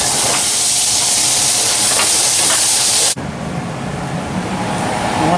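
Butter melting in a hot pan gives a loud, steady hiss that cuts off abruptly partway through, leaving a quieter, duller sizzle.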